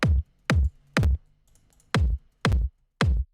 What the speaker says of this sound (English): So the kick drum normally sounds like this.